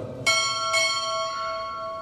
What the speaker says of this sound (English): Time order will strike. Two bells.